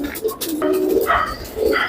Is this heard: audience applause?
no